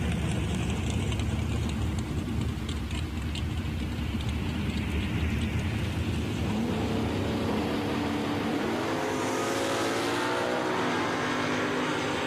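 Drag race cars, a Chevelle and an '86 Firebird, roar continuously down the strip at the start of a bracket race, a dense, loud engine wash that builds and shifts in pitch as they pull away.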